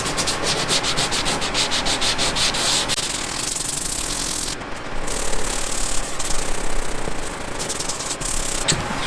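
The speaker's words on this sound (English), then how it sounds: "We might just try to scuff it up so it'll at least have a rough surface to adhere to." A boat keel surface is scuffed up by hand before fitting a Gator Patch keel guard, a steady close rasping rub with rhythmic strokes running throughout and no speech.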